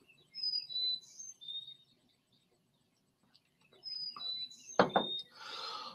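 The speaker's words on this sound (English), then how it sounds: "Hear those birds?" Birds chirp outdoors at daybreak in short bursts of high, thin tweets, with a quiet gap in the middle before the calls return alongside a sharp close knock.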